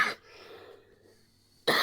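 A person coughs hard twice, a loud burst at the start and another at the end, with a quiet room hum in between.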